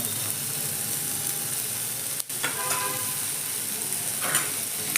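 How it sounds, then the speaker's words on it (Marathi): Garlic and ginger fry in a pan with onion and tomato, giving a soft, steady sizzle close by, broken by a brief thump and a few light scraping stirs. "आता आपण लसूण आणि आलं घालूया"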